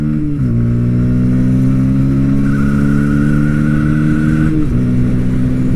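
A Bajaj Pulsar P150 motorcycle engine revs hard as it accelerates, the steady loud drone climbing in pitch, then dropping briefly before rising again with no talking over it.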